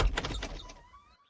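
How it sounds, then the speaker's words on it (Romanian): Car door opening in a car-building video game, a short mechanical clunk with a soft latch rattle, followed by a faint fading whine as the sound dies away. "Deschidem ușa."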